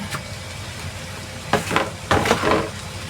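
A spoon stirs a thick snack mixture in a pan, soft scraping and sizzling with a few sharper clacks against the metal, close and fairly quiet.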